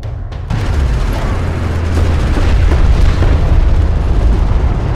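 Armored vehicle blowing up in the real-time strategy game Homeworld: Deserts of Kharak, a heavy sustained rumbling blast with a dense low-end roar that swells and holds for several seconds amid battle noise, no voices.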